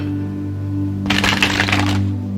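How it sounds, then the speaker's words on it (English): Star Power Tarot cards are shuffled in one quick, crisp riffle lasting about a second, close to the mic over a steady low hum. "So I'm just going to shuffle about 6 times here."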